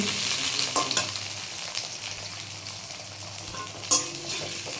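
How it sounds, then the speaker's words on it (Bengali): Potatoes frying in a pan for a vegetarian papaya curry, a continuous bright sizzle with occasional stirring scrapes and one sharp clatter near the end, close and steady. "আলুগুলো একটু ভেজে নিই আগে"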